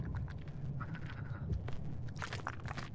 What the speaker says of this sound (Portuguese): A galinha do demônio aqui.